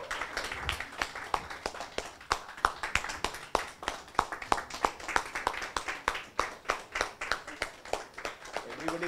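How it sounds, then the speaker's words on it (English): Audience at a Mahindra Truck and Bus corporate awards event clapping steadily, a dense run of sharp hand claps sustained throughout at a moderate level with faint voices underneath. "Keep on clapping, guys."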